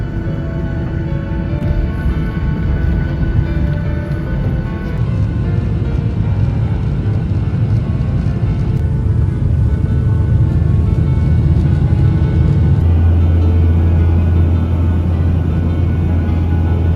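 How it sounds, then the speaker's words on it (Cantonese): Airplane engines rumble inside the cabin as the plane readies for takeoff on a trip to Hokkaido, Japan, a loud, steady low drone that deepens and swells toward the end, with no talking. "飛機準備起飛"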